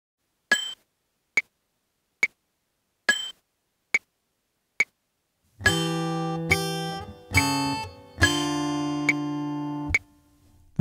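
Guitar playing bars 4 and 5 of Away in a Manger: six sparse plucked ticks, then several ringing sustained notes, fairly quiet and with no talk.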